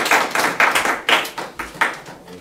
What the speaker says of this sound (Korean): 그 사랑을 담아서 한번 뜨겁게 서로 격려하는 박수 한번 칠까요?